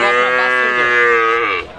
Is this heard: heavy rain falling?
no